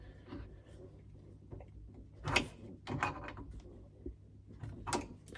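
Pipe fittings being tightened while fitting an outside tap, heard as close metallic ratcheting and clicking turns in a few short bursts against a quiet low hum.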